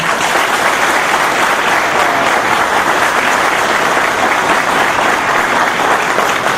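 Loud, sustained applause from an audience at a formal academic lecture in Itu, Brazil, a dense, even clapping that fills the whole stretch with no speech.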